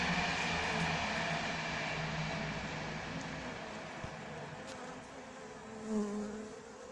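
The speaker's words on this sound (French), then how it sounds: "on a vraiment l'impression qu'il y a beaucoup d'abeilles noires dans ces colonies" Black honeybees hum around their hive colonies in a quiet, continuous drone with a steady tonal buzz, faint and even, a brief louder swell near the end as one flies close.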